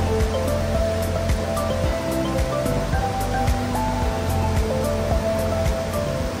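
Aliwagwag waterfall in Davao Oriental roars as a steady, dense wash of falling water, continuous and fairly loud throughout with no voices.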